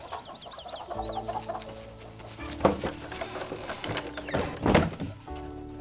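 Several chickens cluck and murmur close by, with a few sharp knocks and thumps breaking in amid the steady hum of the coop.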